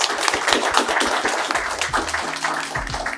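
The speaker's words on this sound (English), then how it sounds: "Can we give them a round of applause?" Audience applause at a youth bootcamp panel event, dense clapping from a room of people holding steady, with some tonal hum and faint voices mixed in toward the end.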